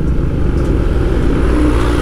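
A car travels loudly along a repaired road stretch near a landslide point while overtaking a smoking truck, with a steady heavy engine rumble and road roar throughout.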